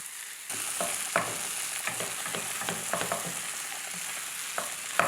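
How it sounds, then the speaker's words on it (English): Canned corned beef with tomatoes and aromatics stirred in a hot pan: a continuous sizzle with repeated scraping and clacking strokes of the utensil, close and moderately loud. "Stirring continuously, breaking up any chunks and ensuring that it's heated through and well combined with the tomatoes and all the other aromatics."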